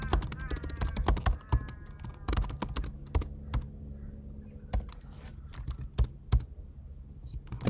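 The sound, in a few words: typing code on a computer keyboard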